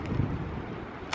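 Strong wind blows across the dunes at Punta del Diablo on the Uruguayan coast, buffeting the microphone in low rumbling gusts for a brief moment, with a short rustle at the end and no speech.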